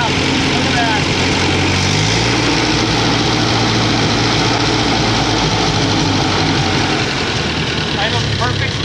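A family tractor engine idles steadily right after starting, a continuous low rumbling drone that stays even throughout, loud and close, with a voice talking over it.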